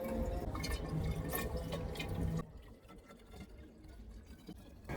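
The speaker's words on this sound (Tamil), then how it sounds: "இந்த பாட்டிலில் முதல்ல நம்ம எடுத்து வச்ச ஜிஞ்சர் பக் ஜூஸை ஊற்றிட்டு கிரேப் ஜூஸை ஊற்றுங்க." Grape juice poured into a thick glass flip-cap bottle already holding ginger bug liquid, a steady close trickle and splash for a couple of seconds that then drops to a faint, quieter dribble.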